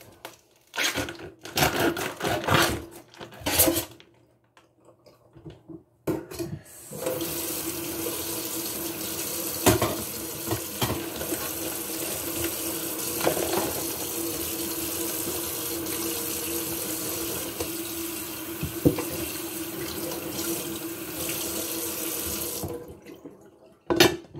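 Tap water runs into a sink as a pork tenderloin is rinsed, starting with a few brief bursts and gaps, then a steady close splashing flow for most of the clip before cutting off.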